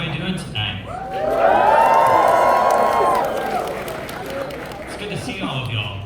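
A large concert crowd in Los Angeles roars and cheers, swelling to a loud peak in the middle and then fading back. A performer's voice and scattered shouts sit on either side of the cheer.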